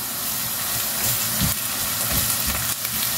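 Garlic and ginger paste sizzles and hisses steadily in a hot pan with brinjal pieces, a loud continuous frying crackle with brief bursts of stronger spitting as it hits the oil.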